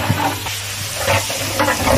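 Biryani spices frying in hot oil in a pot while being stirred, a steady close sizzle with scraping stir strokes recurring through the clip.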